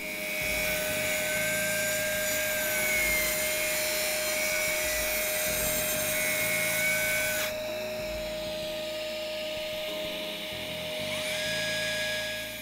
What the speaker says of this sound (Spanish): Levantamos el protector del disco y vamos bajando poco a poco el disco para iniciar el corte.